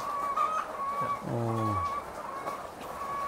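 Layer hens on a chicken farm, birds about two years old and still laying, cluck and call in a steady background murmur, with one louder, nearer drawn-out cluck standing out partway through.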